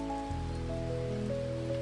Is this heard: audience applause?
no